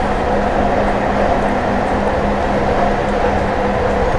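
A Class 158 diesel train running on the North Wales coast line between Abergele and Shotton in Train Simulator 2018, giving a loud, steady rumble and engine drone with a faint tonal hum and no change in pace.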